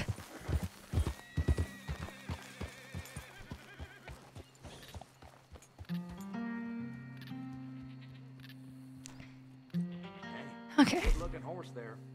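Horse in the Red Dead Redemption 2 video game, rapid clip-clop of hooves at first, then several drawn-out whinnies and neighs, with a final snort, close and clear with no talking.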